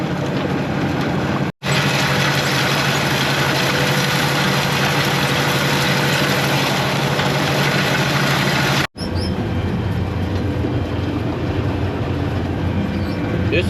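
A tractor pulling a grain drill while planting a rice field produces a loud, constant engine rumble and mechanical clatter, with two very brief dropouts breaking the steady drone.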